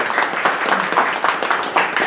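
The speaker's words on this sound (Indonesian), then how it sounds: "Tepuk tangan buat Tuhan." Congregation clapping along during a church worship service in a police detention facility, a dense steady patter of many hands filling the room without pause.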